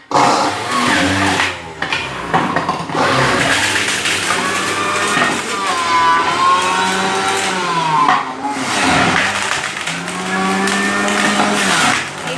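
An electric juicer extracting apple juice, a loud, close motor whine with shifting pitch that dips briefly as apple pieces are pushed through, running almost continuously.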